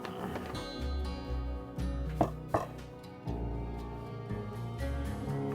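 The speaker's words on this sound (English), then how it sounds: "I'm just going to rough chop my bread and butter pickles" A knife rough-chops soft bread and butter pickles on a cutting board, a few dull thuds over a low steady background, close and moderately quiet with no talking.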